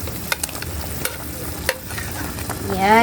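Onion and long chili hit a hot pan of frying pork chop, giving a steady close sizzle with a few sharp stirring clacks that swells louder at the end. A brief word is spoken.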